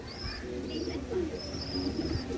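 Pigeons in a loft give soft low cooing calls, a few overlapping coos at close range over faint background noise, with a couple of higher chirps.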